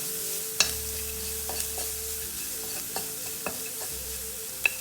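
Chili and turmeric powder sautéing for carrot rice give a soft, low sizzle under sharp spoon-on-pan taps that knock at irregular intervals through the stretch.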